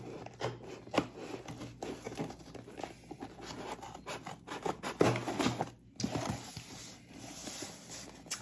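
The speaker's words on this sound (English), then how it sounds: "maybe get the scissors on it so I don't cut too deep accidentally and cut into the item" Scissors cut open a shipping package holding graded trading cards, giving irregular close rasping snips and rubbing scrapes of plastic and cardboard in short bursts with brief pauses between.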